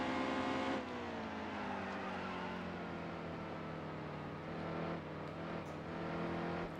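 Race car engine in the NASCAR Heat 2 video game, a steady loud drone with a slowly falling pitch as the car runs at speed, alone without talk.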